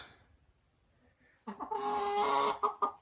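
A grey hen clucks in a greenhouse, a short run of close, loud clucks after a quiet pause, each call sharp and repeated in a quick burst.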